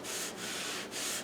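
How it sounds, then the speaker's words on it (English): A household sponge wipes excess grout off tile in two soft, quiet rubbing strokes, heard close up with a brief pause between them. "we're just going to use a regular household sponge, and we're just going to clean up all of the excess"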